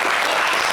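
Dense, steady applause from a studio audience on a French-language live TV variety show, loud and continuous with no voices over it.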